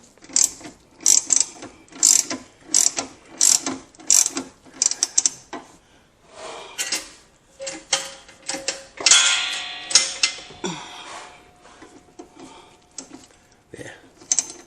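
A ratchet wrench clicks in quick repeated bursts while the rear shock on a 2008 Lincoln Town Car is tightened, close and crisp, with pauses between bursts and some faint handling noise.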